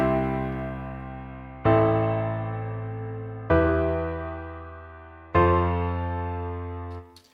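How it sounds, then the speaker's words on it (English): A simple bass line built in FL Studio 20 plays four sustained low synth notes, each struck cleanly and left to ring and fade, loud and close with no voices. "Super simple bass line, right?"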